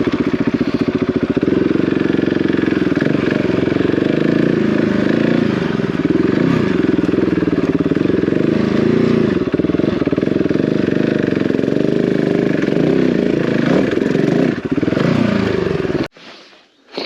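Enduro motorcycle on Motoz adventure tyres riding up a steep climb, engine loud and close, revving and labouring with shifting pitch and clattering for most of the clip before cutting off abruptly.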